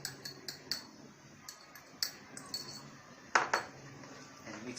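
Yogurt being stirred into cooking oil in a metal pot for a second chicken marinade, with irregular light clinks and scrapes of a utensil against the pot and one louder clatter partway through.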